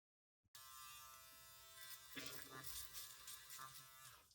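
A JRL Onyx electric shaver switches on abruptly and runs with a loud, steady high-pitched buzz, its tone roughening and fluctuating as it moves across hair, close to the listener.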